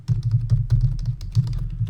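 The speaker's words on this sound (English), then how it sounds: "I'm going to start typing in my name" Keys clatter on a computer keyboard as a name is typed into an Office 365 login screen, in a quick, uneven run of light close-up taps at steady volume with no talking.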